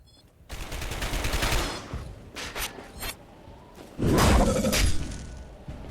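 Gunfire and shattering in the video game Dark Sector, with a burst of rapid shots early on, scattered cracks mid-clip, then a loud heavy volley near the end, close and dominant.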